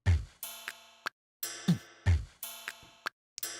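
Synthesizer patch built from a sequence of two vocal samples with effects bypassed, sounding as short bright sung syllables in a repeating rhythmic pattern, each with a low thump, separated by brief silences.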